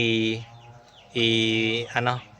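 Rhode Island Red chickens clucking in a pen, two or three short bursts of clucks and calls separated by brief pauses, near and moderately loud.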